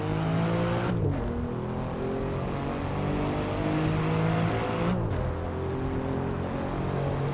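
An Alfa Romeo Quadrifoglio in the Assetto Corsa racing game revs loudly through the gears, its engine note climbing steadily and then dropping sharply at two upshifts, a continuous close drone with no talking.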